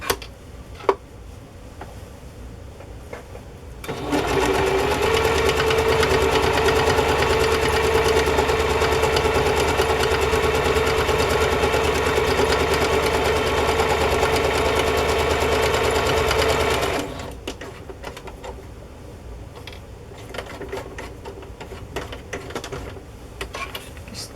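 A sewing machine runs steadily for about thirteen seconds, stitching around the outer edge of a quilt square for a journal cover, with a loud continuous whirring hum and quieter handling noises before and after.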